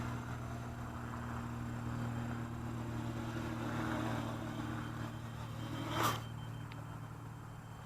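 A 260mm King Kong FPV quadcopter hums steadily as it descends to land, its motor drone holding constant and fairly close, with a sharp brief noise just after six seconds.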